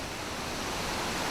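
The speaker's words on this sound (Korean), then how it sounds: "그래서 지금 여기서 보이는 것은 이것이 그 밑에 부분이 폭포예요" Pearl Shoal waterfall at Jiuzhaigou, China, roughly 200 metres wide with a drop of about 40 metres, gives a loud, continuous roaring rush of falling water with no voices.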